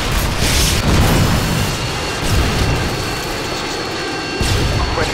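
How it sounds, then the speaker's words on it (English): Harrier jets roar in overhead in Modern Warfare 2 Ground War, a loud sustained jet-engine rumble with booming swells, no talk over it. "Harriers inbound."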